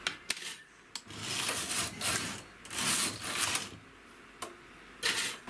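A single-bed knitting machine carriage slides back and forth across the needle bed knitting rows while making gloves, giving repeated soft rasping, rattling passes separated by short pauses, fairly quiet and close.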